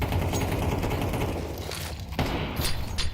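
Automatic gunfire rattles during a Counter-Strike match as a grenade goes off, with dense rapid shots throughout and a sharper blast near the middle, loud and close.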